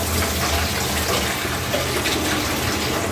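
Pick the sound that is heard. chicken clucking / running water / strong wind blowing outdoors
running water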